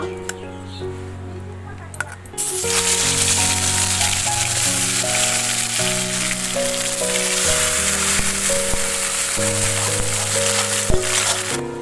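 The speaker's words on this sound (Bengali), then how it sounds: "ওই তেলেই আমি এখানে ম্যারিনেট করে রেখেছিলাম চিকেনটা দিয়ে দেব।" Marinated chicken dropped into hot oil after a quiet moment, bursting into loud, dense, continuous frying that holds steady, with a musical backing underneath.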